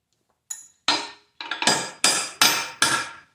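An open-end wrench taps the track adjuster on a John Deere 280 skid steer with McLaren tracks: six sharp, ringing metal strikes, close up, coming faster toward the end.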